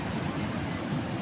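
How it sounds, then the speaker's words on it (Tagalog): Ocean surf at high tide on the shore of La Union makes a steady, broad roar of breaking waves that is moderately loud and has no voices over it. "Ang lakas ng alon today."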